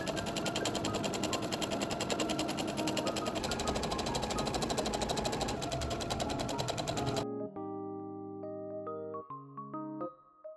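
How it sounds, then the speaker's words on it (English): A sewing machine top stitches along the bottom edge of a summer Lolita dress, joining skirt and bodice seam, running in one long steady loud burst for about seven seconds before stopping, followed by quieter intermittent mechanical sounds. "Then I flip the dress around to the right side and top stitch along the bottom edge of where I sewed the skirt and bodice together"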